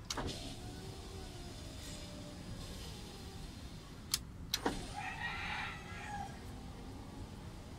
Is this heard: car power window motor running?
yes